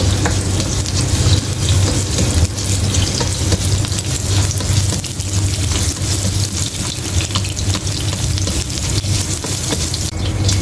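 Garlic fries and sizzles in pure olive oil, a loud, dense, continuous crackle close by that is stirred throughout and carries no voices for the whole stretch.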